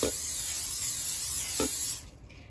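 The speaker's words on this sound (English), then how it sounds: "the first thing you're gonna do with your crock pot is give it a spray." A steady aerosol hiss of cooking spray into a crock pot lasting about two seconds, close and fairly loud, then cutting off.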